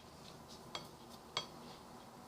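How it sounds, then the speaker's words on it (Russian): A spoon dropping in a home kitchen while an omelette mixture is being prepared for the microwave, giving two quick, close metallic clinks against dishware over a quiet background. "Ложка упала."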